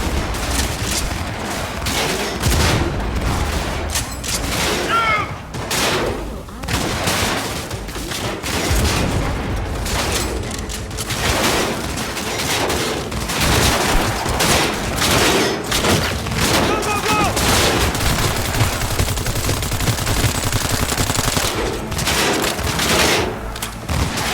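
Dense, continuous gunfire in Cyberpunk 2077: rapid automatic bursts and heavy booming shots layered into a loud, sustained firefight, with occasional voices under the barrage.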